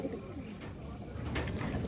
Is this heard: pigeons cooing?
yes